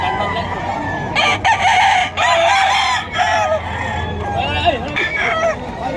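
Roosters, including a Spartan Cross, crow repeatedly at a predawn chicken market in Bocaue, Bulacan, loud close calls overlapping with clucking and other crowing birds while someone talks nearby.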